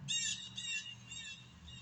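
A bird squawks in harsh, repeated calls, loud and close at first, then shorter, fainter squawks follow over a low background hum.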